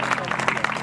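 Congregation at a French-English church service with a prophet claps in a brief, dense burst of applause mixed with crowd voices.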